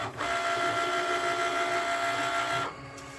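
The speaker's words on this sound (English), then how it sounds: "I'm a little nervous as to how this one's gonna cut on the machine, but we're gonna see right now" Cricut Explorer 3 die-cutting machine cutting a Purse Pal design, a steady whirring mechanical drone with a high whine heard close and alone for a few seconds before it stops.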